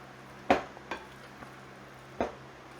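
A spoon or spatula knocks and scrapes inside a bowl while potato salad is folded and turned over on itself, giving three or four distinct clinks spaced apart over a quiet background.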